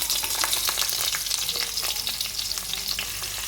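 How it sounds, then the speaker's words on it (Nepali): Chopped onions frying in hot oil with cumin seeds give a steady, close sizzle with dense crackling that runs unbroken throughout, with no voices. "तेल तातेपछि मैले स्वादको लागि थोरै जिरा पनि फुराएँ। त्यसपछि अघि काटेर राखेको प्याज राखेँ।"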